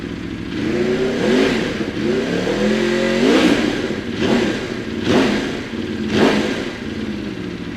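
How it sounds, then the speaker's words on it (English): A 2016 Aprilia RSV4 RF V4 superbike with an Akrapovic exhaust idles up close and is blipped several times, sharp throttle revs rising and falling over a burbling idle. "It is just the best noise as a V4."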